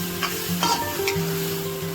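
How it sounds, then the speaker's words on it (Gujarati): Spoon stirring salt into a pan of paneer butter masala, the gravy sizzling and frying steadily underneath while a few scraping strokes come and go; a low steady hum runs beneath it. "મીઠુંને હવે મિક્સ કરી દઈશું"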